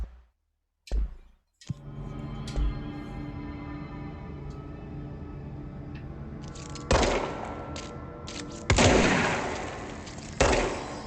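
A high-rate-of-fire weapon in the video game Control lets off a few loud, sharp bursts of rapid shots separated by quieter stretches, with an abrupt blast near the start.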